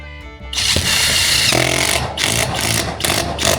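A power tool drives fasteners into a DIY carport build, starting after a short pause and running loud and close in repeated bursts of whirring with brief dips between them.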